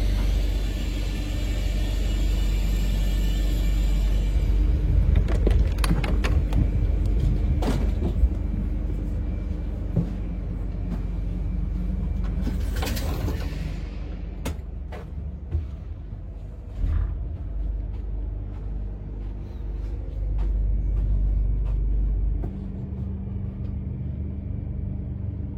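An Intercités train made up of Corail carriages runs from Bordeaux to Toulouse, heard from inside as a loud, steady low rumble. Clacks and rattles come through now and then, and the noise softens toward the end.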